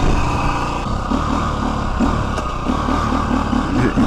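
A KTM EXC-F 250cc motorcycle engine idles loudly and fast nearby, set to a high idle, a steady, slightly uneven rumble with no revving.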